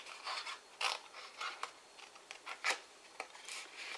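Scissors or a blade snipping pieces away from a paper box, a series of short dry crisp cuts and rustles close by in a quiet room, irregularly spaced.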